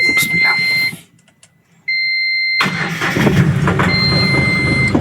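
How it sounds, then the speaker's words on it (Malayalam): An Ashok Leyland bus engine in Bus Simulator Indonesia cranks and starts, a tonal warning beep sounding before a short silence, then a loud steady engine idle settling in with beeps over it, no talking. "അപ്പോൾ വണ്ടി സ്റ്റാർട്ടാക്കാം"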